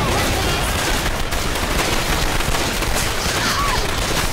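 Dense, continuous gunfire fills a Left 4 Dead 2 firefight, a steady loud clatter of shots with no letup, and faint speech mixed beneath it.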